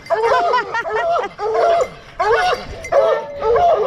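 A pack of hound dogs bays, barks and yips in the woods, loud, close and overlapping in repeated bursts with no talk over them.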